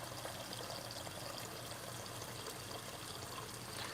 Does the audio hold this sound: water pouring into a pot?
yes